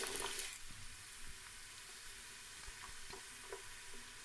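A medium onion sizzles gently in oil left from frying okra, a faint steady hiss with a few soft stirring clicks and a louder burst at the start.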